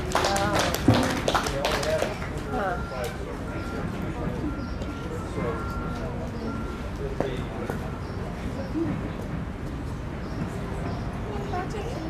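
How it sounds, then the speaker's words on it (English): A crowd at a Utah State Jersey and Holstein dairy cattle show claps in scattered, continuous applause, with voices and background chatter mixed throughout. "give these Jersey exhibitors a round of applause"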